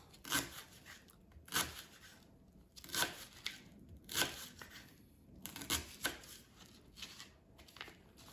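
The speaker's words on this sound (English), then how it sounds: "So to cut it in half rings, you cut it in half first. And then cut each half like this." A knife slices a leek into half rings on a cutting board, giving about eight crisp, evenly spaced cuts close up, each a short crunchy snap with quiet pauses between.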